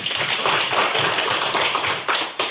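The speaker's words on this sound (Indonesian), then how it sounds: "Tepuk tangan untuk Yana." Hands clapping together in a classroom, a dense burst of many claps sustained for about two seconds, loud and close, with a couple of sharper slaps near the end.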